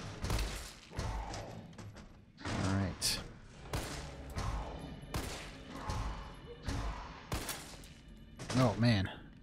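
Gunfire from Resident Evil 3 on PC, several sharp shots spaced irregularly among game sounds and thuds, with someone talking over much of the action.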